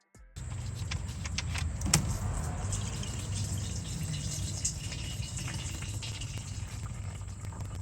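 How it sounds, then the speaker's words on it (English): Engine oil, loosened by a motor flush, drains from a Dodge Dakota into a catch pan in a steady, trickling pour with faint splashing that runs on without a break. "That oil is going to splash out of there."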